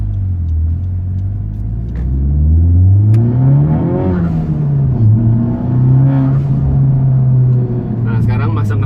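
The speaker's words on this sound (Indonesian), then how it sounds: "Nah kalau menurut kalian suara knalpotnya mending yang Armitrix atau Miltek yang sebelumnya?" A Honda Civic Type R FK8 with a 2.0 turbo engine and a loud aftermarket exhaust revs up and down repeatedly, a deep, close rumble rising and falling, with voices talking over it.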